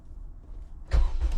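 A Honda car engine cranks and catches after a quiet lead-in, firing up loud and close, then settling into a slightly rough, uneven run.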